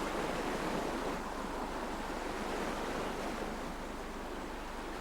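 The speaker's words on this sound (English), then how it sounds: "I think a boat must have just gone past." Steady wash of surging water from a passing boat's wake, a continuous broadband rush with no pauses, loud and close, like waves rolling in.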